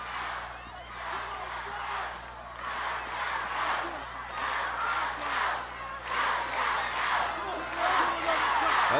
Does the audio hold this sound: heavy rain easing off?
no